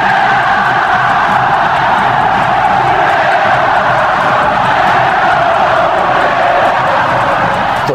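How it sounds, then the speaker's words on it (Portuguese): Flamengo supporters in the Maracanã stadium, a dense, loud, continuous roar of crowd chanting and cheering that fills the whole stretch, with no single voice standing out. "Tão inesquecível quanto uma música da torcida do Flamengo que ecoou pela primeira vez no Maracanã"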